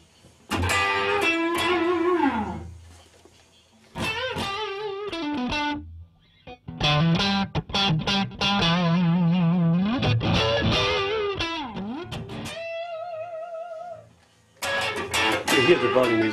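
Distorted electric guitar, recorded as a second guitar track through an amp set for apartment-level low volume, plays chorded phrases and sustained bent notes in separated bursts with short gaps, fairly clear and alone.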